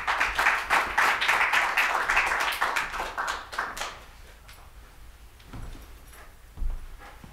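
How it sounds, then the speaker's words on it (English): Warm audience applause welcoming an author to a book talk at NYU, dense and fairly loud at first, then thinning into scattered claps and fading to a few isolated hand taps. "I invite you to please welcome him with a warm applause"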